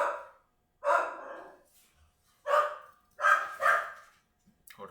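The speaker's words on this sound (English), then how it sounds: "these fucking dogs" Dogs barking indoors: four or five separate bursts of loud, gruff barks with short pauses between them, close by and alone without talk.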